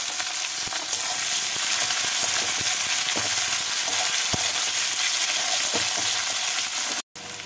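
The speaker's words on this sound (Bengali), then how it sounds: "এবার এর মধ্যে দিয়ে দেবো একটা মিডিয়াম সাইজের কুচিয়ে রাখা পেঁয়াজ। পেঁয়াজটাকে হালকা করে ভেজে নেব।" Chopped onion fries in a pan of hot oil and spices with a steady sizzle. Stirring scrapes and light taps recur throughout, and the sound cuts out briefly near the end.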